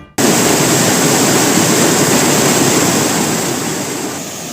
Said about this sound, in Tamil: சுமார் 50 அடி உயரத்தில் இருந்து ஆற்று நீர் ஆர்ப்பரித்து கொட்டுவதால்